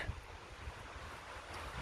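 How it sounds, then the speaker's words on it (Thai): Strong wind in a Swedish forest during mushroom picking roars as a constant rushing noise that buffets the microphone, with no talking. "วันนี้ลมพัดแรงมาก ลมพัดแรงมากๆนี่ค่ะ"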